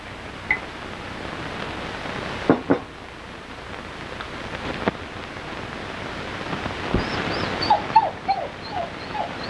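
A dog whimpers faintly in a scene from a 1934 film, a few brief high cries rising out of a constant hiss of old recording noise with no talk.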